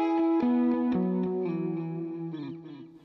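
Electric guitar notes ring out with repeating echoes trailing behind each pick, a chorused, shimmering tone fading gradually over a few seconds.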